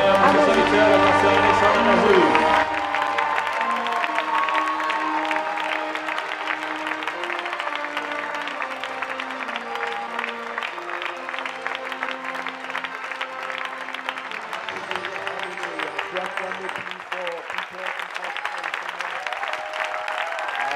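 A church congregation applauding and cheering for Pastor Alexandre Amazou during a seminar. Loud, sustained clapping with crowd voices starts strongly, then continues steadily over a held musical backing for the whole stretch.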